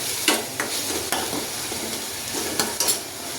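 Ginger, garlic and chili paste stirred into chana shaak in a pan, a soft sizzle under intermittent scraping knocks of a spoon against the pan, no talking.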